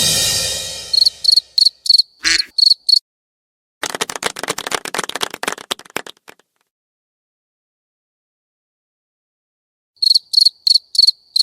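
A Discord soundboard cricket effect plays short bursts of sharp, high chirps. A run of rapid clicks and a long silence follow, then another burst of chirps closes the clip.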